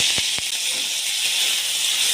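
Potatoes drop into hot mustard oil in a wok, producing a continuous bright sizzle and hiss, with a couple of short knocks at the start and no talking.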